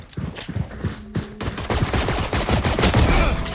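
Rapid gunfire during a competitive shooter match in the PCMT Season 3 NA playoffs, with dense bursts of sharp shots rattling almost continuously, a brief pause near the start, then sustained overlapping fire.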